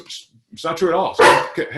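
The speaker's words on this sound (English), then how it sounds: "That's my dog making some noise." A pet dog barks nearby: a short yip, then a couple of loud, sharp barks that cut across someone speaking indoors.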